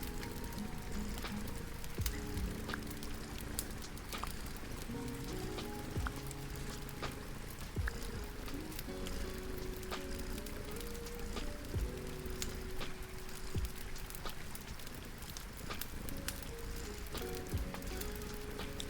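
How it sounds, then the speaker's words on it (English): A steady rain ambience sound effect patters softly and evenly throughout, a faint continuous wash of drops with scattered light ticks and low background tones, no talking. "I also got the rain and the fireplace sounds."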